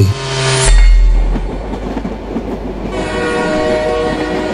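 A train in a Howrah station scene from an animated story opens with a brief horn blast, then rolls on with steady rumbling and rhythmic clickety-clack of wheels, loud and close throughout, with no voices.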